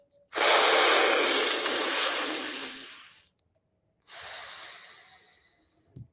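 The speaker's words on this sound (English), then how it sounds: "I'm going to go for 3 more breaths." Deep breathing from a breathwork exercise: one long, loud, close inhale-exhale rush lasting about three seconds, then a shorter, softer breath after a pause, with no talking.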